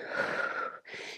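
Someone breathes in audibly during a workout: a soft, airy inhale close to the microphone, then a brief pause and the start of another breath.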